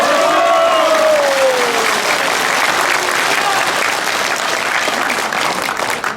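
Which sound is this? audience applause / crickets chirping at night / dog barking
audience applause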